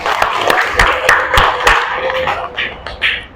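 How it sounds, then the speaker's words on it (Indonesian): Pupils in a classroom clap for a classmate who answered a religion lesson question correctly, a short burst of mixed hand claps that tapers off after a few seconds. "Tepuk tangan buat temannya."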